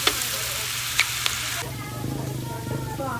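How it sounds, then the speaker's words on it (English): Pork satay meat browns in a hot pan with a dense, steady sizzle and crackle, broken by a few sharp clinks of a utensil early on, and faint background sound beneath. "the meat is nearly all browned off now"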